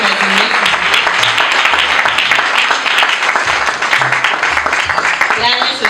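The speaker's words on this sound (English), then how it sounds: "Let's continue to clap for him as he makes it" A graduation crowd in Nairobi keeps clapping in a thick, continuous wash of applause that holds for the whole stretch, with faint speech mixed in.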